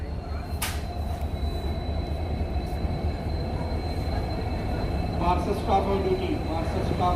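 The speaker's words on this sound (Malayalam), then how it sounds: "ജമ്മുവിലേക്ക് പോകാനുള്ള ട്രെയിൻ എത്തിയിട്ടുണ്ട്" A train bound for Jammu Tawi rumbles steadily nearby with a low continuous roar, a faint high whine and metallic screech, as it rolls into a station.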